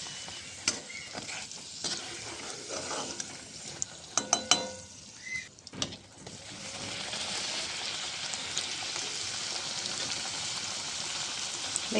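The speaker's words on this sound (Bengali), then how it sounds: "তেল গরম হয়ে গেছে, ছেড়ে দিচ্ছি। একটু তাড়াহুড়ো আছে বলে একসাথে দুটোই ভেজে নিচ্ছি" Two pieces frying side by side in hot oil, a steady close bubbling sizzle that swells and holds after a few sharp clatters and stirring sounds near the start.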